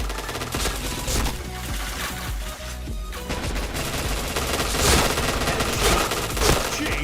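Rapid gunfire from the online shooter Point Blank: dense, continuous automatic bursts that stay loud and steady throughout, with crackling impacts layered on top.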